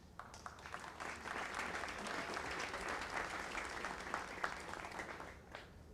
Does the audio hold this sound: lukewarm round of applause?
yes